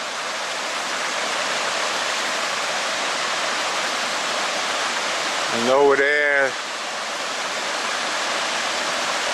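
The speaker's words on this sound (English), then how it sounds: "one small waterfall after another" A small waterfall along the Rhine rushes as a steady, full hiss of water throughout, close and continuous. Someone speaks briefly midway over it.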